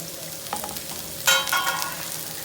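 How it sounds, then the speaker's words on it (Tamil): Thinly sliced vegetables for veg spring rolls sautéed on high flame, crackling sizzle with spatula stirs and a louder burst of frying midway, no talk. "இதை நம்ம ஹை ஃப்ளேமில் வச்சு நம்ம இதை வதக்கி எடுப்போம்."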